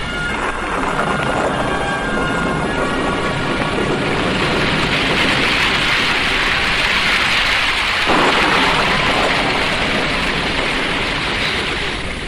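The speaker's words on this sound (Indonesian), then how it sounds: "ketika hujan turun dengan derasnya" Heavy rain pours steadily on a mountainside, a dense unbroken hiss for the full stretch with low rumbling beneath, loud and close throughout and no voices.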